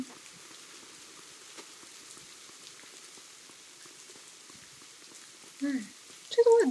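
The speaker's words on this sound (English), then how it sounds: "It's still raining." Steady soft rain patters in the farming video game Big Farm Story, a faint continuous hiss with a couple of brief game sounds near the end.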